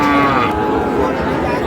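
A Sahiwal bull calf at a cattle market gives a loud, close, drawn-out moo that fills the whole moment, with faint background chatter beneath.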